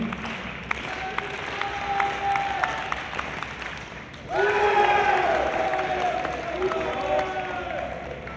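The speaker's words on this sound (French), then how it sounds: "On l'applaudit, Christopher Bézard pour la France, qui manque sa troisième tentative à 1m60." A stadium crowd at a high jump final applauds and cheers, a broad wash of clapping and voices that swells suddenly midway and stays loud, with a voice talking over it.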